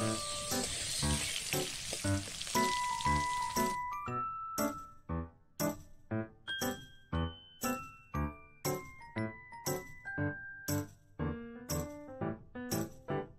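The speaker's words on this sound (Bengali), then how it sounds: "ওর উপরে আমের টুকরোগুলো দিয়ে অল্প নাড়াচাড়া করে নেব" Mango pieces sizzle in a pan tempered with black cumin and dried chili for a Bengali mango and fish curry. A loud crackle gives way to steady, rhythmic metallic clinks of a utensil stirring against the pan, with no voices.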